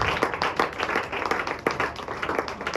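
Worshippers in a church break into clapping and applause, many hands striking in a busy, uneven patter that stays strong and continuous throughout.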